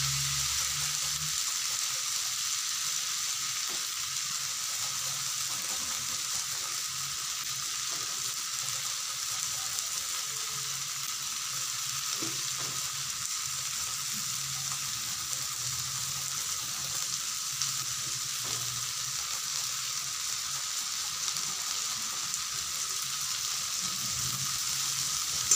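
Garlic frying in a pan for a dried fish (shutki) dish gives a steady, even sizzle that holds at a constant level throughout, with no voices.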